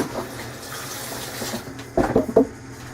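Tap water running and splashing as hands are washed at a sink, a soft, irregular trickle with a few louder splashes near the end.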